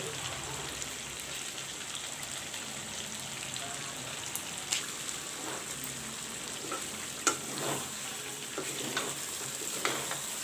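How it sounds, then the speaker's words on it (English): Chicken pieces fry in a pan with masala and Kashmiri chili, a dense steady sizzle close up with occasional clicks and taps of stirring over it, no voices. "keep frying the meat"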